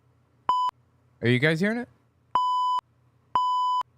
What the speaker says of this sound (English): And then I have a center beep.